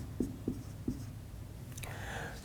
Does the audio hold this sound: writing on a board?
yes